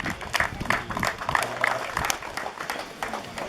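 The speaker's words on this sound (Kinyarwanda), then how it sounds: "bakumvira amashyi akoze cyane rwose." Audience clapping at a wedding ceremony, dense scattered claps from a crowd with some murmuring voices mixed in, moderately loud and sustained.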